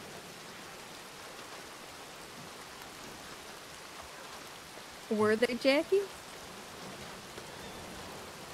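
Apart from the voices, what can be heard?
rain in video game Red Dead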